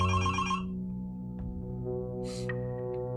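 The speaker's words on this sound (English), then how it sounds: "She hung up the phone again, and almost immediately, it began to ring" A telephone rings in a house at night, with one electronic ring burst at the start and another about two seconds later. A steady low hum runs beneath it, and no one speaks.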